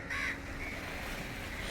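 A single crow caws near the start, faint and somewhat distant, over a quiet seaside ambience at Dadar in Mumbai.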